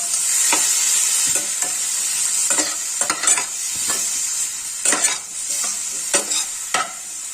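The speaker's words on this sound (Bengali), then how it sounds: "টমেটোটাকে একটু ভেজে নিলাম" Shrimp and chopped tomato frying in a pan for lau chingri, a steady loud sizzle with repeated sharp scrapes of a spatula stirring at irregular intervals.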